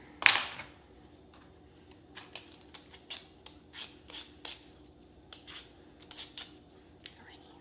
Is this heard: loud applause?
no